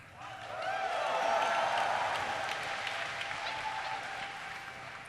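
Steady audience applause at a live podcast taping, a dense wash of many hands clapping that swells quickly and holds for several seconds before easing slightly.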